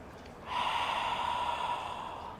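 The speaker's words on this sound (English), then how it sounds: "Now inhale through your nostrils, and as you exhale through your mouth" A single slow breath drawn in through the nostrils, then a long, soft, airy exhale through the mouth, close and quiet during a gentle hatha yoga session.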